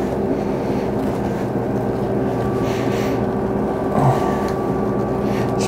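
A pineapple peeling machine runs steadily with a constant mechanical hum, close and loud, holding an even drone throughout with a small clunk partway through.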